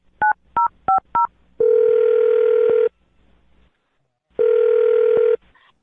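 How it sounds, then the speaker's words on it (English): A phone number is dialed with four short touch-tone beeps, then a steady dial-type tone holds for about a second, breaks off, and returns once more, all loud and close with no talk. "I'm going to dial this phone number right now"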